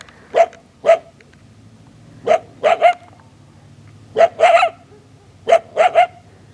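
Sharp barks from a wild coyote in small clusters of one to three, loud and close, separated by quiet pauses.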